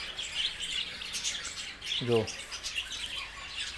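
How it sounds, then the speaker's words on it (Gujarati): Budgerigar parakeets in a zoo aviary chatter and chirp steadily in the background, with one clearer, closer short call standing out midway; someone speaks briefly over the birds. "આમાં આવ્યો ભાગ છે બજરીગર, એટલે કે જે પોપટ છે"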